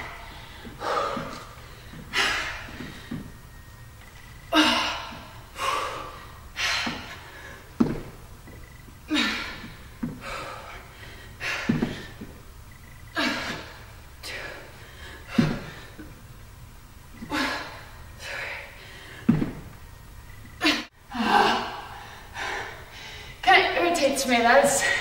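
Heavy, rhythmic breathing during a tiring workout, with sharp gasps, snorting exhales and sighs repeating every second or two over about 25 seconds, close and fairly loud, with no words spoken.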